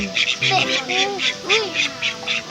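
Several nasal duck quacks in short bursts, close by at an open zoo, with people talking over them and a background hiss.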